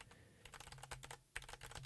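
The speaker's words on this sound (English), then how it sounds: "I just tried pressing the WASD keys because I am too used to playing games which move around like that" Keys on a computer keyboard tapped while playing RollerCoaster Tycoon, a quiet cluster of close, soft clicks in an uneven rhythm with a short pause midway, no voice.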